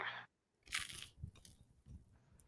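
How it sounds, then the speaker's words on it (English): Buttered toast being bitten, giving a short crisp crunch followed by a few softer chewing crackles, close and fairly loud with no talk over it. "Yep, that's a crunch."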